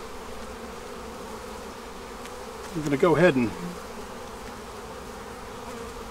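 A swarm of honeybees hums steadily in the background during a hive inspection, over a frame of brood and nurse bees, with a brief louder burst of buzzing as bees pass close by midway through.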